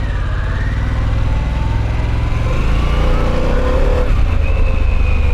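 A Harley-Davidson Pan America motorcycle creeps through a parking lot at slow speed, its engine a loud, steady, close rumble with slight swells in throttle and no voices.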